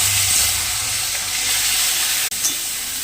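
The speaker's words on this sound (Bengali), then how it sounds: "কড়াই লবণ হলুদ মাখিয়ে শস্য পোস্ত লঙ্কা ভেজে নেবো ভালো করে।" Poppy seeds and chili frying in a wok, a continuous close sizzle with one sharp clink of a utensil near the end, and nobody talking.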